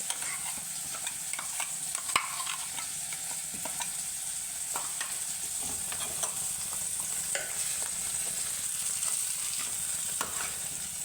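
A masala paste with onion, tomato, green chili and tamarind for a prawn theeyal gets stirred in a pan, giving a soft, continuous sizzle dotted with quiet, repeated spoon scrapes.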